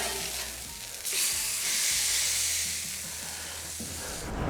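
Smash burger patties sizzling in a hot pan after being flipped and pressed, a loud steady hiss that swells suddenly and holds, close up with occasional light scraping underneath.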